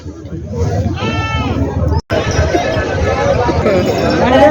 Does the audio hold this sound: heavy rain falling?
no